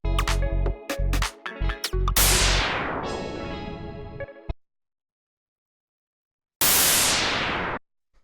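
Bursts of synthesized white noise through a sweeping low-pass filter that closes down from bright hiss to dull rumble, then silence and another filtered noise swell, made as a house-track effect.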